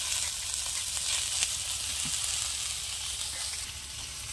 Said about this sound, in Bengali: একদিকে বরবটি আলু ভাজা হচ্ছে